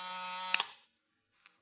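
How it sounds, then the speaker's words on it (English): A desk buzzer in a 1940s old-time radio mystery drama sounds one steady, harsh electric buzz for under a second, then cuts off into near silence with a faint click. "It was time for the buzzer on my desk to sound out the call"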